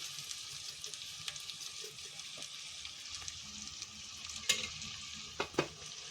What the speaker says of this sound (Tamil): உப்பு போட்டு வதக்கினீங்கன்னா நல்லா சீக்கிரம் வதங்கிடும்